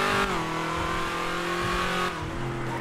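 A Dodge Hellcat's engine revs loudly in a video game, a steady, close growl whose pitch drops near the start and shifts again toward the end, with faint tire noise under it.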